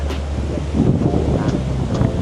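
Wind and surf at Laem Mae Phim beach in Rayong, with light rain, make a steady roar as strong gusts buffet the microphone over the continuous wash of waves.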